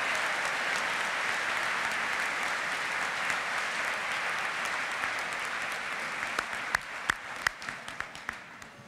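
A university commencement audience gives a sustained round of applause for the musicians and accompanist, a broad even wash of clapping from a large crowd that thins toward the end into scattered individual claps.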